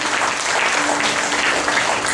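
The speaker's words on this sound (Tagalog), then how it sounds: "May nakakaunawa nga po yung pumalakpak?" Church congregation breaks into brief, loud applause during a sermon, a dense wash of clapping that holds steady for about two seconds.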